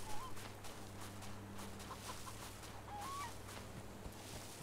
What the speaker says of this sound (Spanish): Mira, la gallina.